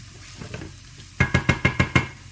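Garlic and onion sauté in a pan for a Moroccan kefta tajine. A soft, steady sizzle runs at first, then six evenly spaced, loud knocks from a utensil strike the pan over the frying.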